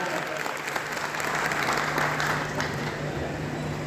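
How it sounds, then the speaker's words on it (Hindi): Audience at a poet gathering (kavi sammelan) at Bundelkhand University, Jhansi, bursts into sustained, loud applause, a steady dense crowd clapping that holds for several seconds with some crowd noise and a low hum underneath. "एक बार जोरदार ताली बजाएं।"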